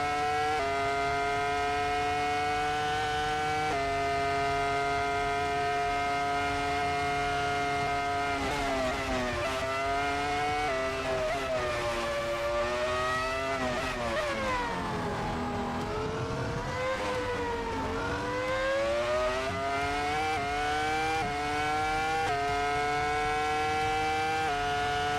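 BMW F80 race car engine in a racing video game, a loud continuous harmonic whine rising through gears, dropping on shifts and braking, then climbing again, with no talk.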